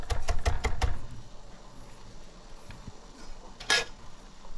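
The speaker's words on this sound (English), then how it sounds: "With the scallion, mince that well." A knife minces scallion on a cutting board, giving a quick run of about five sharp, close chopping taps, then quiet kitchen background with one brief clink near the end.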